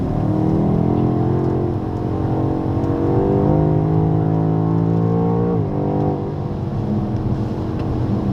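A BMW X6M at full throttle on the Dijon circuit, its engine roaring loud and close with a steadily climbing pitch, dropping briefly at a gear change before pulling hard again, with no talk.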